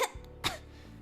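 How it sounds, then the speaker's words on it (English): Video game character Parfait, a woman, gives two short coughs about half a second apart, close and fairly soft. "Parfait puts a hand to her chest as she begins to cough"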